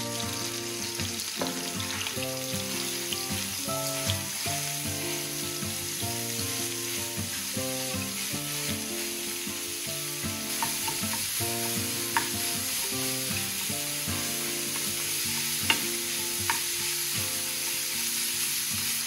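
Ground beef browns in melted butter in a pan, giving a steady close sizzle that runs throughout with occasional clinks of stirring, while musical tones sound underneath.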